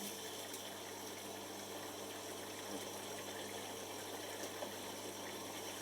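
A washing machine draws in water as it fills during its pre-wash, a steady broadband hiss and rush of inflow that runs unbroken and fairly quiet throughout, with faint room noise beneath.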